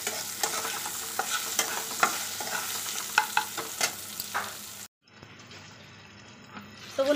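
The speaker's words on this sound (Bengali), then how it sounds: "এই দেখো পাতলা পাতলা করে কেটে নিয়েছি, হালকা ভেজে নেব।" Thinly sliced potatoes fry lightly in a pan with salt and turmeric, a soft sizzle under repeated close stirring and scraping strokes, followed after a short cut by a quieter steady frying hiss.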